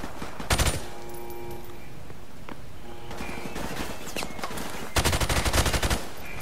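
Bursts of automatic gunfire from the video game Call of Duty Modern Warfare Remastered: a short rapid volley early, scattered lighter shots and clicks mid-clip, then a longer loud sustained burst near the end, with no talking.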